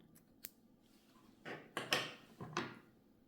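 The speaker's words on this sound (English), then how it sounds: "And take a scissors" Scissors snip through crochet yarn in a few crisp, close cuts, quiet and alone, with a small click before them.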